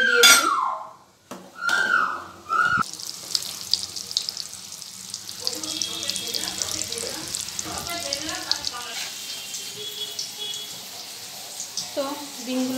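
Eggs are fried one at a time in hot oil in a wok with a steady crackling sizzle that runs through most of the stretch, after a few sharp clanks and splashy starts at the beginning.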